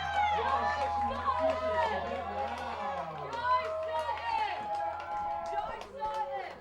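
Stadium crowd at a Vermont Voltage soccer game, a steady roar of cheering and chatter with scattered shouts and claps, loud and continuous throughout.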